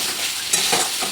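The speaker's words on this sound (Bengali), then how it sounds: "চিকেনটা দিয়েও মশলার সঙ্গে একটু কষিয়ে নেব।" Chicken pieces stir-fried with spices in a pan, a dense, close hissing sizzle that stays loud and even throughout, with a couple of faint stirring scrapes.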